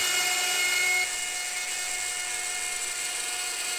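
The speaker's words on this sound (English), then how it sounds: "Now I go back to the start point and connect the dots with one long dado." A router or power cutter running steadily as it plows one long, fairly deep dado groove through a wooden board for a C-channel, a high whining tone that drops slightly in pitch after a second and continues alone, close and sustained.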